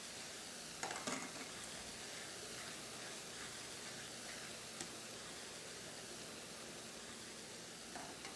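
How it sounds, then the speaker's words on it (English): Hot stock ladled into a pan of risotto for pan seared halibut with lemon pesto, giving a steady close sizzle and hiss with a few soft stirring clinks, no talk. "listen for that sizzle"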